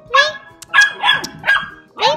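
A small dog character in the Roblox game Brookhaven yips and barks in quick high-pitched bursts, about five in two seconds, loud and close, mixed with whimper-like tones.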